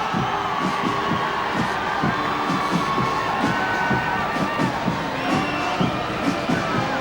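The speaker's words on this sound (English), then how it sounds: "Very enthusiastic crowd here at the main stadium at the National Sports Complex, giving all countries a generous welcome, a very warm welcome." A huge stadium crowd at the 1998 Commonwealth Games opening ceremony in Kuala Lumpur cheers in a continuous roar, with a steady rhythmic thumping of drums or beats underneath, loud and unbroken throughout.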